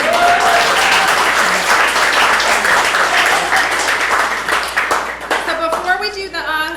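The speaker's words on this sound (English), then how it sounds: "How about a round of applause for my long-suffering husband?" An audience at a historical society evening applauds a long-suffering husband, a loud, dense burst of clapping that thins out toward the end as a voice starts speaking.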